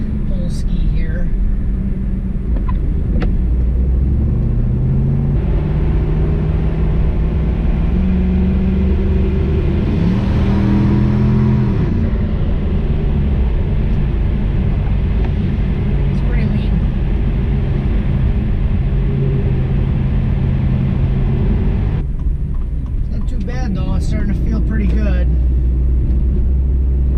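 A turbocharged LS-powered Cadillac Escalade pulls hard under part throttle, its loud, rumbling engine note climbing steadily toward 5,000 RPM, then easing off near the end; the roar fills the cabin continuously with a voice speaking over it.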